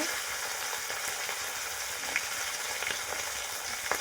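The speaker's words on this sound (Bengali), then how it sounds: "মাছগুলো গরম তেলে ভালো করে ভেজে নেব।" Pomfret pieces rubbed with salt and turmeric fry in hot oil with a continuous, fairly soft sizzle and a few faint crackles and pops scattered through, no voices.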